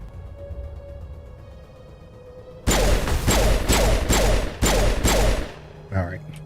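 Pistol fire in the video game Mass Effect, a burst of about six loud, sharp shots in quick rhythm after a quiet stretch, ending with a brief thud.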